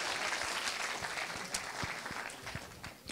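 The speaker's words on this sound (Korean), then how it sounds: "박수 한번 쳐주세요" An audience at a university admissions information session applauds, a quiet, steady round of clapping with a few sharper individual claps standing out, fading slightly toward the end.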